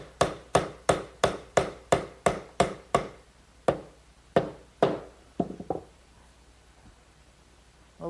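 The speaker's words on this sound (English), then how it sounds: "Maybe just a little gentle persuasion from a rubber mallet." A rubber mallet taps a glued dovetail joint into its slot in a wooden candle stand, about a dozen sharp, close knocks in a quick even run, then a few spaced blows tapering off in a quiet shop.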